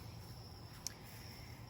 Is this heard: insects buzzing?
yes